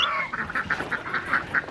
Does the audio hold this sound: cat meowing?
no